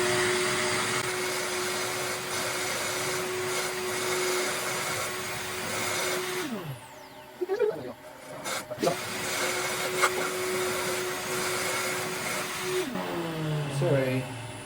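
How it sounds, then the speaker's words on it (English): A workshop hoover roars steadily while old valve seat inserts are cut from an alloy cylinder head on a Serdi 3 machine. It shuts off midway, leaving brief clatter, then starts up again near the end. "get the old hoover on."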